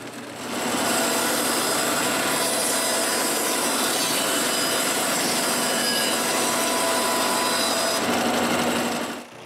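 A saw cuts the edges off an oak plank salvaged from firewood, a loud continuous rasping cut running steadily for about eight seconds with no talk.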